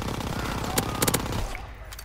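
SMG fire in Call of Duty WW2, a quick rattling automatic burst with a few louder cracks, ending abruptly after about a second and a half.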